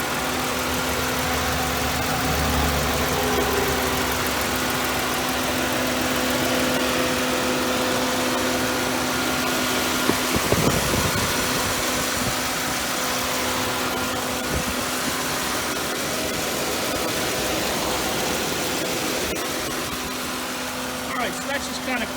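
A 2006 Pontiac G6 GT's 3.5-liter V6 idles steadily at close range, a constant low hum with a faint tonal whine and no revving throughout.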